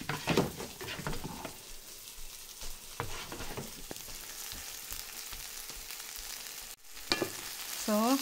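Bitter gourd (ampalaya) sizzling in a hot pan while being stirred, a steady close crackle broken by scraping and clattering spatula strokes, loudest at the start and end, with no talk over it.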